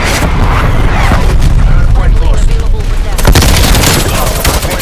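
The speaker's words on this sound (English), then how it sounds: "Incoming artillery." Incoming artillery explosions in a video game battle, loud continuous booming and rumbling blasts crowding together, with a fresh heavy burst of impacts partway through, while a voice talks over them.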